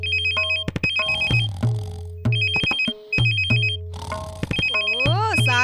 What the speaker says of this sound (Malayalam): ദേ ഫോൺ അടിക്കുന്നു.